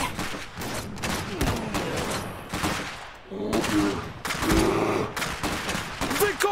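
Gunfire in the Iron Harvest video game, dense bursts of rifle and machine-gun shots rattling in rapid volleys with brief lulls, loud and close, mixed with battle noise.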